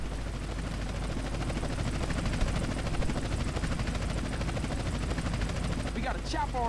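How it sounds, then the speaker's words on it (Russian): A helicopter in GTA San Andreas hovers overhead with a steady, pulsing rotor drone throughout, loud and constant, while a voice talks over it and brief gunfire-like bursts appear near the end. "Но вертолет тут все еще в воздухе."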